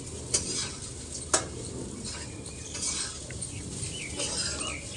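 Sabudana khichdi sautés in butter in a pan with a steady soft sizzle, while a spoon stirs and scrapes, and two brief clinks sound early on.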